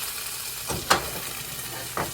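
Green beans hitting melted butter in a pot give a steady, soft sizzle, with a couple of brief clatters as they tumble in and shift about.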